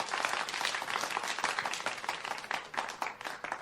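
A round of applause from a small studio audience, dense continuous clapping that stays steady and fairly close throughout, with no clear voices on top.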